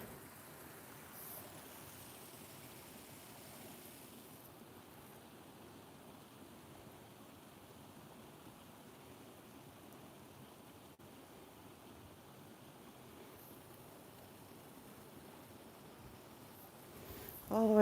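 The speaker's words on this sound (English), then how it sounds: "And here is the bottom of the waterfall." Steady broadband rush of water at the bottom of a waterfall on open moorland, heard from nearby as a continuous, fairly quiet roar without breaks.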